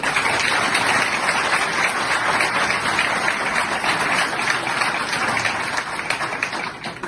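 A crowd at a political gathering applauds with continuous dense clapping for about seven seconds, holding steady at close range before tapering slightly at the end.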